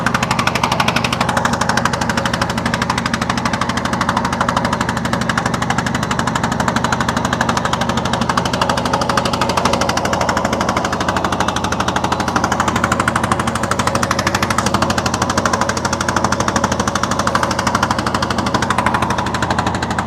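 A speedboat engine at a Kutubdia channel crossing in Cox's Bazar hammers in a loud, rapid, continuous knocking rhythm, steady and close throughout.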